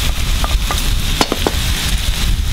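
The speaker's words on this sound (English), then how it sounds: "we're gonna leave this to cook for about, I don't know, maybe 2 minutes just to brown up the garlic and lemongrass" Pork with minced garlic and mashed lemongrass sizzling loudly in a hot pan, a steady close frying hiss broken by a few sharp scrapes and clicks of stirring, with no voices.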